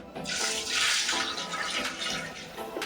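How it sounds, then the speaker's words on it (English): A bucket of water is poured into a Black+Decker washer, making a rushing, splashing gush that swells in the middle and then eases off, close up with no talking. "So this is the 4th bucket of water."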